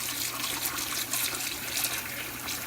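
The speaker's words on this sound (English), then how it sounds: "Maybe like dip it in the water a little bit and like put some soap." Soapy water sloshing in a sink as plastic model kit parts for a 1:48 scale Revell F4U-4 Corsair are washed with a sponge, a steady quiet splashing and trickling close by with no voices.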